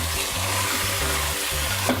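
Mutton and onions frying together in a pan, stirred continuously, giving a steady, fairly loud sizzle with soft scraping movement throughout, no voices.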